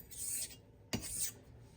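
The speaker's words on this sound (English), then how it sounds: "Now you'll hear that's got that raspy kind of a sound. This is a really nice coarse grit stone." A straight razor strokes across a hard, coarse-grit natural whetstone, giving two raspy scraping passes with a short pause between them, close and fairly quiet.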